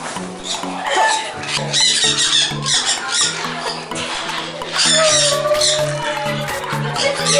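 Parrots in Poland squawk repeatedly, loud harsh calls and chattering bunched close together with a few short pauses, filling the whole stretch.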